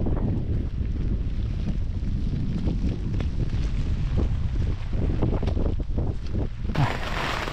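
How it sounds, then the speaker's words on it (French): Strong storm wind roars continuously outside a tent on a mountain trail in northern Sweden, buffeting the tent or microphone with gusty rumbling and flapping, loud and unbroken throughout. "Grosse tempête dehors, plus vent, infernal."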